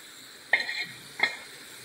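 Hot oil tempering poured over a Sankara fish curry in a pan, giving two short sizzling hisses about a second apart over a steady low frying background.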